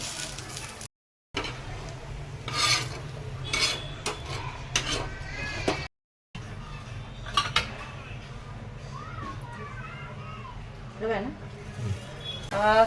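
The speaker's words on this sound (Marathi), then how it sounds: "लसूण अद्रक सगळे मसाले आपण एकत्र भाजून घ्यायचे बघू शकता मसाला छान भाजतोय" Garlic, ginger and spices roasting in oil in a pan for misal pav masala, heard as soft sizzling with clinks and scrapes of a spoon against the pan, close by, under someone talking, with two brief silent gaps.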